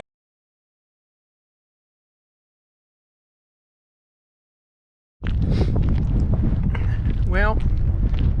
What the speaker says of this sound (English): Well, I know it's windy.